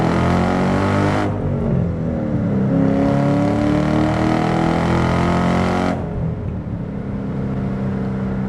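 A supercharged 2005 Ford Saleen Mustang with a 4.6 engine on a test drive, its loud engine droning steadily with rising revs and a bright supercharger whine that cuts in and out, heard alone without talk.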